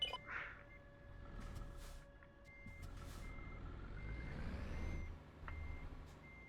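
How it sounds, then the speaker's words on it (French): A reversing bus sounds repeated backup beeps, evenly spaced and moderately distant, over low traffic and engine rumble, with air-brake hiss and no talk. "T'as le bus devant qui recule aussi pour je ne sais quelle raison."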